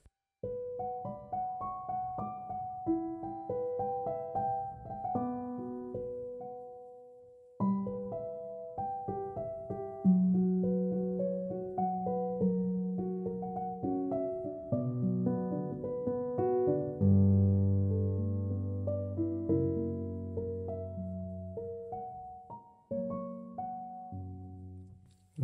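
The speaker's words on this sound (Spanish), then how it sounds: "Y con el Melodyne he exportado el MIDI y suena así." A piano part, exported as MIDI from Melodyne, plays back as a clean melody with chords over about 25 seconds, briefly pausing once before continuing, with no voices.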